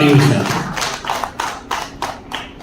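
Clapping from an audience at a Gujarati stage show sounds as about six evenly spaced, sharp claps, close and moderately loud, after a brief bit of a man's speech.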